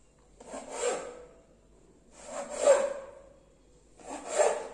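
Vettu cake dough, the Kerala tea-stall fried snack, being cut into pieces about 1 to 1.5 inches long with a knife, heard as three separate rasping strokes in a quiet room.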